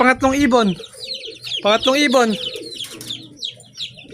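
Someone speaks briefly, then racing pigeons coo and chirp nearby at their loft in short scattered bursts over a quiet outdoor background.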